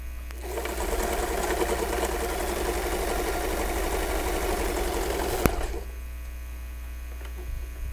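A home sewing machine stitching in one steady, close run of rapid whirring for about five seconds, then stopping abruptly and leaving a low mains hum, no talking.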